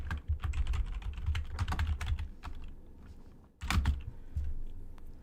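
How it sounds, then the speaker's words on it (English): Close-up clicking of computer keys, bursts of fast typing with a short lull, then a few louder keystrokes. "Excuse my horrific typing."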